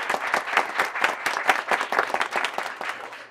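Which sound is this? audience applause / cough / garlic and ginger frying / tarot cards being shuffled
audience applause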